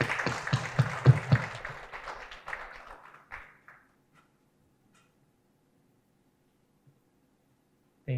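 Audience clapping at an HR mentoring programme graduation ceremony, a burst of scattered, fairly close applause that thins out and stops after about four seconds, followed by near silence.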